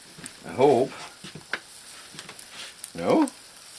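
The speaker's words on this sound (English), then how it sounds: "You're going to hear some sizzling here in a minute." Bread laid on a hot wood stove gives a faint, soft sizzle beneath bursts of nearby talking.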